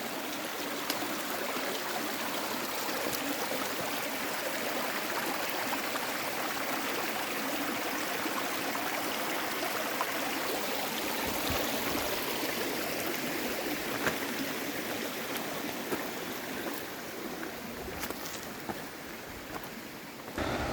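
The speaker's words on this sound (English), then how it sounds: "Creek crossing in the park." A creek rushes past a trail crossing in Olympic National Park, a dense, steady broadband wash of flowing water, close and constant throughout, with no voices.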